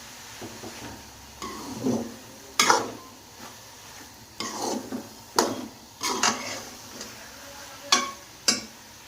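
Grated carrots roasting in ghee in a pan while a spoon stirs them, giving soft scraping strokes and occasional clinks at an uneven rhythm over a faint sizzle, close by and without talk.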